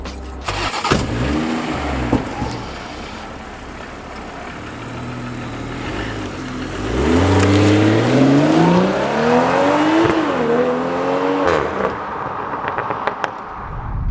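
A 2020 BMW M340i pulls away and accelerates, its engine note climbing through the gears in rising sweeps, loud and close, with a brief dip between pulls and no talking.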